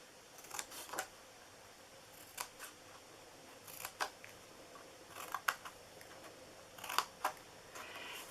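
Scissors snip through paper in quick, crisp cuts set apart by short pauses, close and fairly quiet, with no talking.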